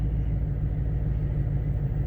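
A Vortech-supercharged 2019 Ford Mustang with a Coyote V8 runs at wide open throttle, heard as a steady, muffled low rumble, heavy and continuous, as if from inside the car.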